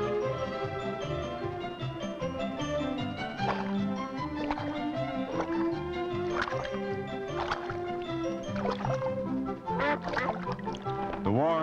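Ducks quack at a shaded pond in Yellowstone during summer, with short bursts scattered through the clip and partly masked by continuous orchestral music.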